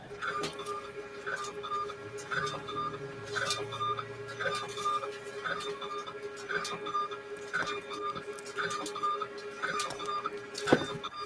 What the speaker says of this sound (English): Listen to my printer print.